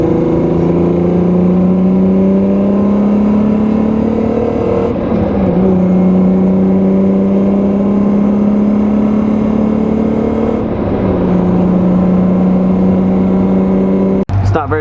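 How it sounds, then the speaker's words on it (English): A car engine runs steadily and loudly at night, a constant droning hum with slight shifts in pitch as it revs, continuing with brief dips throughout. "Car's running."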